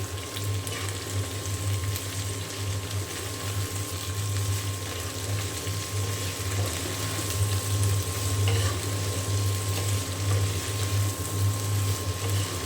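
Sliced pointed gourd (potol) sizzles and crackles steadily in a hot pan with turmeric and salt while being stirred, a continuous close frying hiss with no talking.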